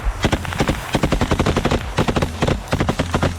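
Rapid bursts of automatic gunfire crack in quick succession during a combat assault, loud and close, with short gaps between volleys.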